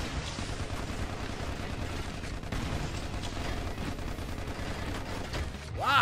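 Steady, loud gunfire in the online shooter MicroVolts, with a dense chattering stream of shots and mechanical clatter running throughout and a rising tone near the end.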